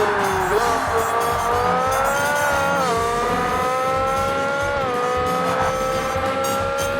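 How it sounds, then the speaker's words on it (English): Race car engine whining at high revs with tires squealing in the racing video game Forza Motorsport (2005), a loud, continuous, rising and dipping engine tone as gears shift. "What is this car sound?"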